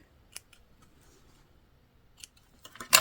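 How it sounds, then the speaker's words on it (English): Scissors trim loose threads off quilting fabric, giving a few faint, quiet snips with near silence between them and a sharper cluster of cuts at the end. "I'm trimming off any like loose threads so that they're kind of out of the way"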